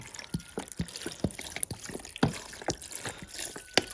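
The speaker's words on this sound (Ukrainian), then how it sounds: "Казан чавунний, заливаємо водою." Water splashes and trickles into a cast iron cauldron holding sulphur shelf mushrooms, in irregular glugs and drips, close up and moderately loud.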